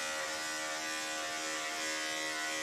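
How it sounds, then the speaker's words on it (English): A 5-speed electric dog grooming clipper fitted with a 7 blade runs in a steady, even buzz throughout, close and unbroken with no talk. "5-speed clipper."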